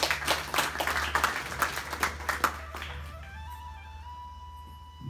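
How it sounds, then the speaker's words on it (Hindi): Applause from the congregation at a Hindu temple's Gita discourse, dense clapping for roughly three seconds before it thins out and gives way to a sustained tonal drone with a low hum underneath. "जोरदार तालियां सबके लिए"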